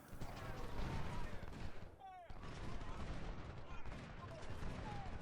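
Musket volleys traded between lines of infantry in a Civil War strategy game, continuous crackling gunfire at a distance with a low battle rumble, faint and steady throughout with a brief drop near the middle.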